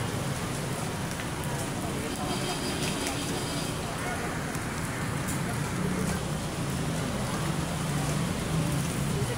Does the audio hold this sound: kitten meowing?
no